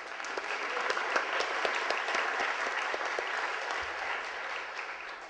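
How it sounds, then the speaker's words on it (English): An audience at a 2010 convocation applauds scholarship award winners, a steady wash of many hands clapping with a few sharper nearby claps standing out, sustained at even loudness for the whole stretch with no talking. "Can we clap a little?"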